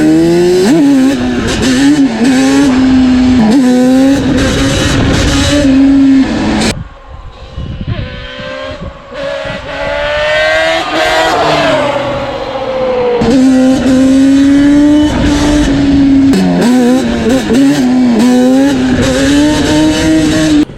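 A Yamaha Banshee ATV screams past at speed, its two-stroke engine loud and close, revving hard with rising and falling pitch as it passes and fades, then returns with another high-revving run.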